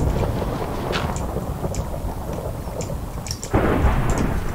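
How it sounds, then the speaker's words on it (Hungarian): Thunderstorm in the Minecraft video game: steady heavy rain with rolling thunder rumbles and a louder crack near the end, continuous and close, with no talking. "Az nem gyenge vihar a játékban, ami most van."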